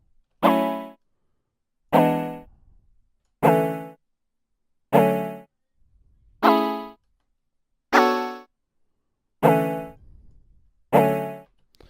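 Eight evenly spaced chill pluck synth notes made in Xfer Serum ring out alone, each a sharp bright attack decaying quickly into silence, about one every second and a half.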